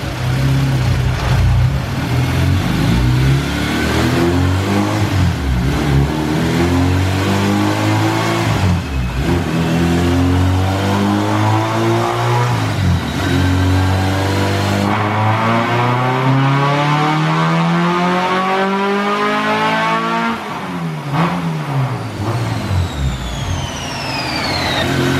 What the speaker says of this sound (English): Nitrous pull, guys. First nitrous pull.